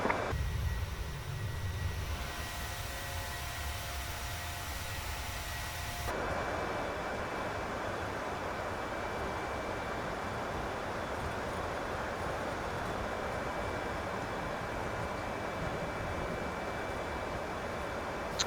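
An airliner taking off at night in Microsoft Flight Simulator 2020 produces a loud engine roar that rises sharply after a few seconds and then holds as a steady, broad rumbling whine.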